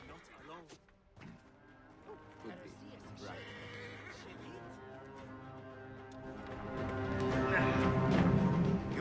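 A horse in Assassin's Creed Origins gives a wavering whinny early on as its rider dismounts, followed by thuds and game ambience that swells louder toward the end.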